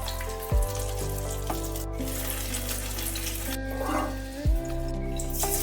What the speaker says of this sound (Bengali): তেলটা যেহেতু এদিকে রয়ে গেছে সেজন্য আমি এদিকেই মাছ দুটো দিয়ে দিচ্ছি।